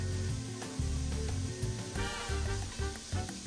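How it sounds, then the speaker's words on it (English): Bacon sizzling and frying in a pan over medium-low heat, a steady close crackle with small pops and occasional stirring, no voices. "let's work the bacon first in medium to low heat"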